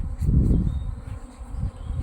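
Dense, continuous buzzing of many bees swarming close by at an apiary in the Low Beskids after rainy days, a low droning hum that swells and dips slightly.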